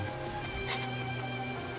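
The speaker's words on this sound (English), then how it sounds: "Rain starts to pour down from the sky." Rain pours down in the video game NIKKE as a steady, hissing wash of drops under a soft tonal background, with no talking.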